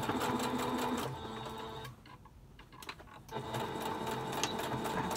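A sewing machine back-stitches a fabric face mask, running in steady close-up bursts with a short drop in speed midway before the motor picks back up.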